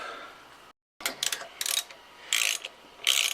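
A ratchet clicks in short bursts while fasteners are snugged up on a 1993 Mustang GT, four or five brief, close, crisp spells separated by pauses.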